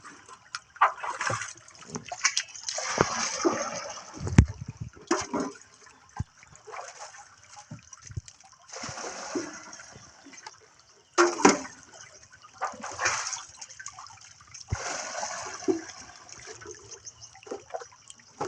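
Water poured into a drum or container while mixing a spray solution for a crop, heard as intermittent pouring and splashing bursts over about eighteen seconds, close and moderately loud.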